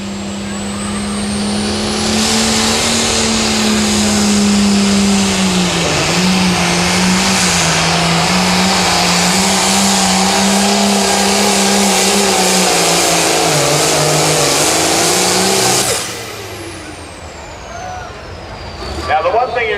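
Turbocharged 8500 limited pro stock pulling tractor roaring loudly through a pull at a Mound City, Missouri event, sustained heavy engine drone with wavering pitch and turbo whine, then dropping off sharply near the end while a voice talks over it.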